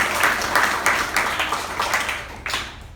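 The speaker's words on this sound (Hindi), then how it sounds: "वेरी गुड, ताली बजाओ सालू के लिए।" Schoolchildren clap for a student at a composite school in Azamgarh, a brisk, loud run of claps filling the room before it trails off near the end.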